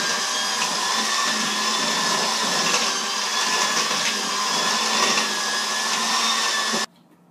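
An electric mixer whirs steadily through chocolate cake batter, a loud continuous motor drone that holds for several seconds and then cuts off abruptly.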